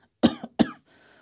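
A person gives two sharp, close coughs in quick succession, each with a brief rasping tail, followed by a faint breath in a quiet room.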